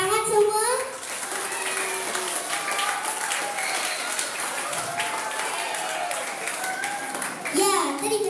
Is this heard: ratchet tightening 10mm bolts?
no